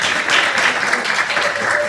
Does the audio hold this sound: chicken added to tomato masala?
no